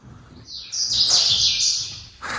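Several birds sing in quick, high chirps and trills, fairly close and continuous, with a soft low rumble underneath, outdoors in Marrakesh near Jemaa el-Fna.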